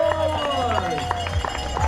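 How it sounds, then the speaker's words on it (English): Half marathon runners set off together on the Chilterns trails at a trail race, a steady patter of many footsteps moving close by beneath ongoing talk. "Our half marathon runners are off and flying on the chilterns trails here"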